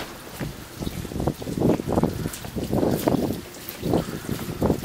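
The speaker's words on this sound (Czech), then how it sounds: "padá sníh, fouká vítr a vůbec není teplo" Gusty wind roars against the microphone in repeated surges during snowfall in Fort McMurray, loud and close, with no voices.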